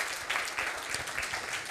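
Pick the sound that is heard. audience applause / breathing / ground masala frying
audience applause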